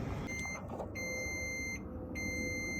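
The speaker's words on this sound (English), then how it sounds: "looks like the timer hit." A Traeger pellet smoker's timer, cooking a tri tip, beeps in a series of bright electronic tones over a steady background hum, with short pauses between groups of beeps.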